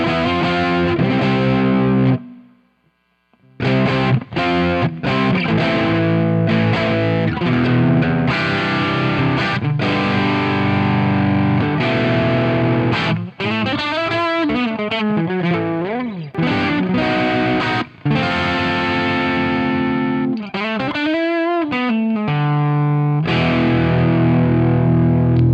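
A distorted electric guitar played through a Marshall amp plugin rings out in loud, sustained riffs and chords with bending, wavering notes. Two short breaks interrupt the playing, and no one speaks.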